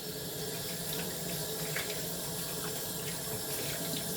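Tap water running steadily into a kitchen sink, a continuous loud broadband rush with no pauses or voices.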